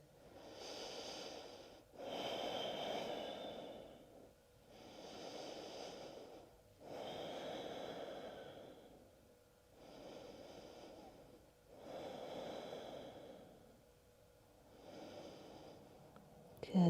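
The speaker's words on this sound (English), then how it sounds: "We stay for 5 breaths." Slow, deep breathing while holding a yoga pose, about seven long audible inhale and exhale cycles, close and steady with brief pauses between breaths.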